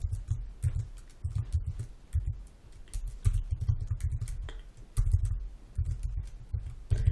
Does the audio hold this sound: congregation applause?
no